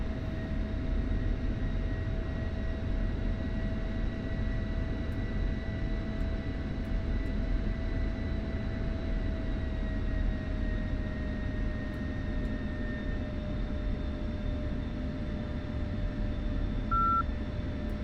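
A fighter jet in a flight simulator game spooling up for takeoff from a runway, a steady droning engine roar with a faint high whine running throughout, no voices.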